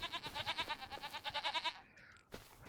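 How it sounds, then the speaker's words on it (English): Goats bleat in a farming video game, a loud, close, rapidly wavering cry repeating in pulses for about two seconds, followed by a brief quieter bleat. "Alright, so we've got goats."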